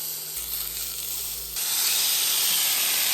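Food sizzling in a hot frying pan, a steady close hiss that swells louder partway through and then holds.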